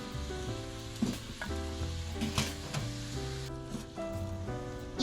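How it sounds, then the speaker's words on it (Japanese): Bacon and enoki mushrooms sizzle in a pan over a wood campfire at a winter camp near Mount Fuji. There is a steady crackling fry with occasional stirring knocks, and a soft background tone runs throughout. "炒めるだけの簡単料理"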